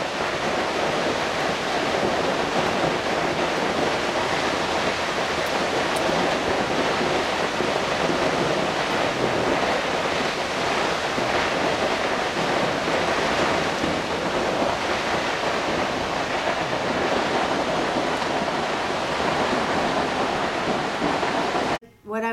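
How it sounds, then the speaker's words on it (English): Vernal Fall pounds onto rocks as a loud, unbroken roar of rushing water close by, steady for over twenty seconds. "you can hear the water slamming against the rocks"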